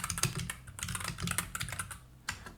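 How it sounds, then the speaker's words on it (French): Rapid typing on a computer keyboard comes through close and clear as a busy, uneven run of key clicks with short pauses, including a few louder strikes. "j'espère que vous n'êtes pas adepte de l'ASMR sur clavier"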